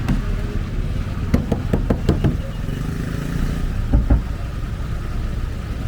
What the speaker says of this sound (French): ils tapent sur les carrosseries des véhicules en fait